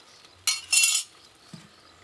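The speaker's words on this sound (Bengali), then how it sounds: "এবার এর মধ্যে টিফিন কৌটোটা বসিয়ে দেবো।" A metal tiffin box set down into a pot of cooking rice gives two close, bright metallic clanks in quick succession, then quiet with a faint soft knock.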